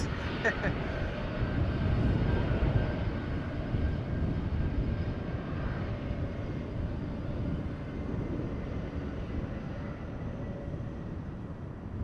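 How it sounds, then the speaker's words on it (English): A DHL Airbus A300-600 cargo jet at Amsterdam Schiphol Airport, departing for Leipzig, gives off a low, broad engine roar at moderate distance, steady and sustained, with faint background talk. "DHL A306 going to Leipzig."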